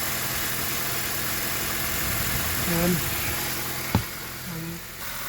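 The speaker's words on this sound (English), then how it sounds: "We'll let the engine run for some time" A 2013 Honda Accord engine idles in a steady low hum during an oil change, with someone talking over it and a brief knock near the end.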